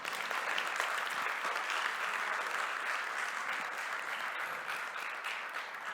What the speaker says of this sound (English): We should give them an applaud right now. Give them an applaud.